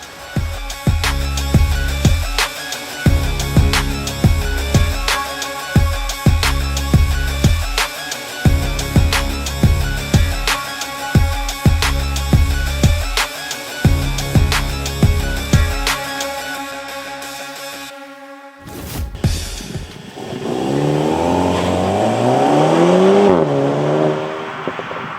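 A 2021 VW Golf Mk8 GTI hot hatch driving on a chilly Cape Town day, engine note heard steadily through most of the stretch, rising and falling with acceleration before easing into a smoother sweep near the end.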